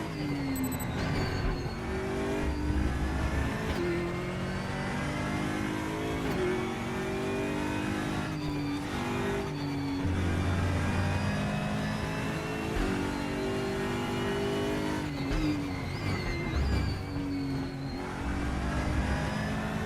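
In the iRacing simulator, a Mazda MX-5 race car engine drones and revs continuously, rising and falling as gears shift and the car brakes, with brief tire-lock squeals and no talk.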